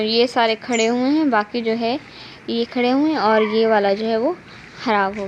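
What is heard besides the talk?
None of the usual background noises is heard.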